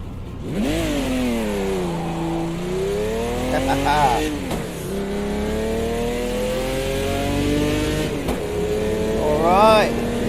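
A race car in the sim racing game Automobilista 2 (AMS2) is driven hard, the loud close engine climbing and dropping through gear changes with sharp rev blips near the end.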